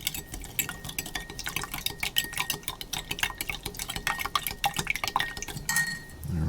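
A spoon stirs hot water into an MRE pork rib and clam chowder meal in a plastic pouch or cup: quick, rhythmic scraping and clinking strokes with faint liquid sloshing, close and steady.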